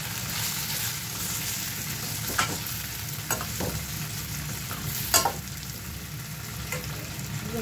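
Crushed peanuts stir-fried in a hot pan make a steady nearby sizzle, punctuated by a few sharp spatula scrapes and knocks against the pan, with no talk.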